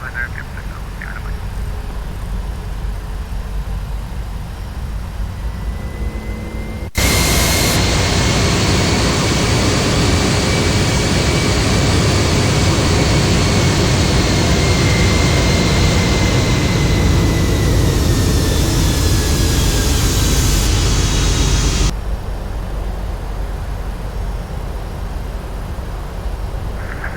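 A TUI Boeing 767-300ER jet roars loudly during takeoff from the runway, a steady dense engine rumble with a rising whine that holds for about fifteen seconds, with quieter cabin hum before and after.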